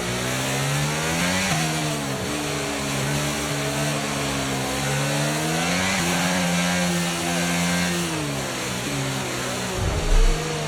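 A Formula 1 car engine in the F1 23 video game revs and accelerates, its loud, continuous whine climbing and dropping through gear changes, close and unbroken, with a brief low thump near the end.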